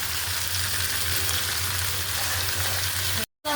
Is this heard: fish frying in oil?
yes